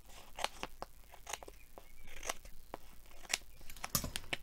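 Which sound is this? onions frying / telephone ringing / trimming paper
trimming paper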